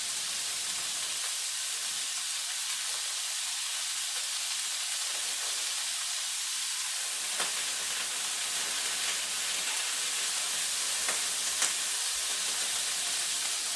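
Chive flowers sizzling in a hot pan, a steady broad hiss of frying that holds evenly throughout with a few faint crackles and pops, moderately loud and alone.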